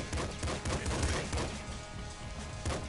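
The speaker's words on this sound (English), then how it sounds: "Oh, I can make bodies explode." Corpse explosions and weapon fire crackle in the video game Nuclear Throne, a dense, rapid string of sharp bursts that keeps going throughout.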